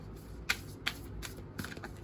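Tarot cards being shuffled, a few sharp riffling bursts and soft card slaps spread over a couple of seconds, close and fairly quiet against a low background hum.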